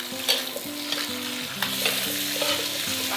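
Pressed xianggan tofu stir-frying with pork in a wok, a close sizzle broken by scraping and clattering spatula strokes in an uneven rhythm, with no voices.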